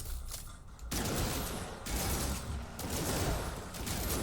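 A bolt caster fires in the game No Man's Sky, loud sustained bursts of rapid gunfire in three long stretches, each separated by a short pause, with no talk.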